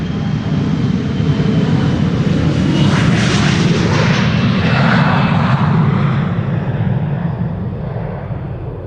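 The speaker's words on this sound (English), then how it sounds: "Embraer 175 to JD's hometown of Düsseldorf" An Embraer 175 jet climbs away on takeoff from Schiphol bound for Düsseldorf, a loud continuous engine roar that builds and sweeps across overhead, then slowly fades as it recedes.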